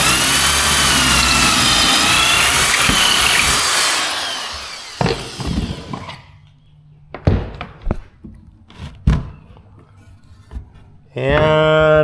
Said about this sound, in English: Grab my drill that I've got all set up.